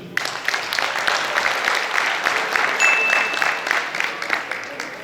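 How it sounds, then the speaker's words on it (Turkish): An audience at an awards ceremony claps for the nominees for best NGO, a lively steady round of applause lasting several seconds. "adaylarımıza bir alkış"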